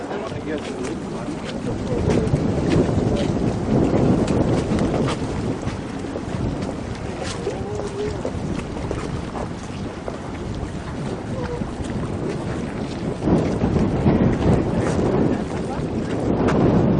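Strong wind roars and buffets the microphone continuously on a cold day in Holland, with a low rumble of a boat and water underneath.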